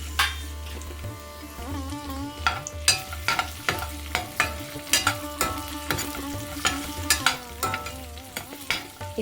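Chopped almonds and cardamom being stirred in a frying pan, with a steady sizzle under rhythmic scraping strokes of a spoon against the pan, close and moderately loud, with no speech.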